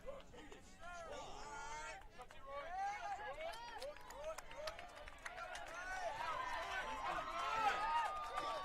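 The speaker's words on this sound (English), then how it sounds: "This Green Wave crowd coming alive as they try to apply the pressure to the Scots defense and cheer on their hitters" Green Wave home crowd at a high school baseball district championship game, Highland against Newark Catholic, cheering on their hitters: many distant, faint voices whoop and call out together, swelling gradually louder toward the end.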